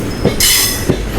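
The Mayiladuthurai to Karaikal passenger train runs on the rails with loud rumbling, a couple of wheel clacks and a brief high metallic squeal.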